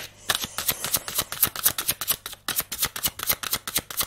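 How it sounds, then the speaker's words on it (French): Tarot cards shuffled and drawn by hand in a steady run of quick, crisp riffling flicks, close and fairly loud, with no talking. "Attends, je retire une 3e carte"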